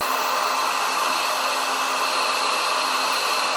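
Hair dryer blowing hair dry, a steady close whooshing roar of air and motor that holds constant and loud throughout without any pauses.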